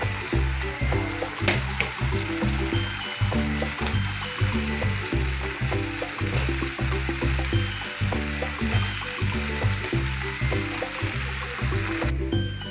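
Tomatoes and cut mango fry in a pan, giving a steady close sizzle with a rhythmic, pulsing pattern as the pieces cook, continuous and without talk.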